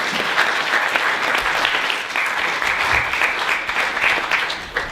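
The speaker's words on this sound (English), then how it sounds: "Let's give them a round of applause." An audience at the StartupConnect 2015 networking fair panel gives a steady, dense round of applause that holds at an even level for about five seconds and eases slightly at the end.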